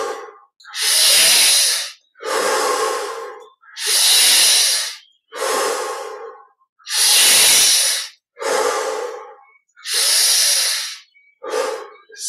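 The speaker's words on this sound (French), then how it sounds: "Encore 10 respirations" Deep, slow breaths during a guided Yogoda energization meditation, about eight long inhale-exhale bursts in a steady rhythm, close and loud with no talking.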